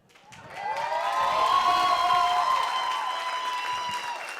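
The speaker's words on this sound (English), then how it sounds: "a huge round of applause for Michael Carnevale" A comedy club crowd applauds comedian Michael Carnevale after his set, a sustained wash of clapping that swells and holds for several seconds, with some cheering tones mixed in.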